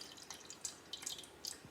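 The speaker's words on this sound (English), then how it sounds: "pour my coffee into a different container here because we're still gonna use this coffee for dyeing some lace" Brewed coffee poured from one container into another produces a few faint close splashes and drips, soft and irregular, in an otherwise quiet room.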